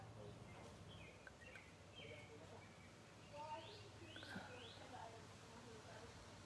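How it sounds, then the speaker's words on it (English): Faint bird chirps and short tweets scattered through a steady background hum, distant and soft, drifting in through an open window. "You're going to hear birds chirping. I have my windows open."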